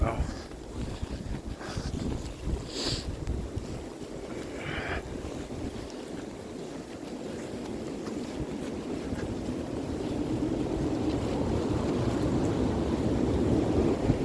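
Strong wind roars steadily across an open snowy outdoor spot ahead of a blizzard, a broad constant rushing that builds slightly toward the end, with microphone buffeting and a few faint higher whistles.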